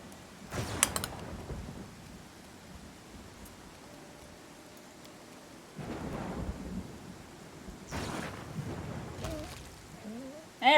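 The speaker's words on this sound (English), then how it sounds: "Oh, stupid rain." Rain and thunder in the Pathfinder video game: a soft steady rain hiss broken by several deep rumbling thunder cracks, one early, one near the middle and a pair late.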